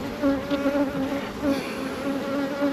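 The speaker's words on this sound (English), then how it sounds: "You notice there's not that many bees in here." Steady, close buzzing of honey bees in a summer nuc hive, a continuous droning hum with slight swells, heard alone without speech.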